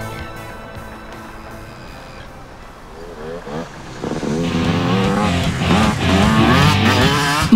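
A car engine drives past close by, starting as a steady hum with whining tones and rising into a louder, harsher roar of acceleration in the second half, with possible tire noise.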